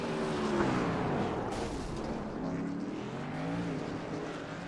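Race trucks roar around the short oval at Martinsville in the TWR Truck Series racing game, a dense, steady blend of engines revving and droning throughout with no talk.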